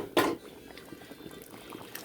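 A quiet pot of lentils with alkaline khar water bubbles gently, with a brief splash at the start followed by soft, irregular bubbling pops.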